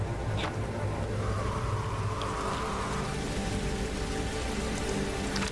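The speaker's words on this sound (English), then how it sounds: "this rain will just hydrate them" Steady rain pours in The Walking Dead video game, a dense, continuous hiss of drops hitting surfaces with a low rumbling undertone, with no voices.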